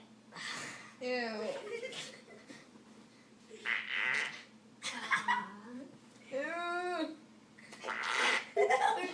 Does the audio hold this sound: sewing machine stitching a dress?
no